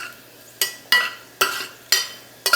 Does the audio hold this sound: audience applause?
no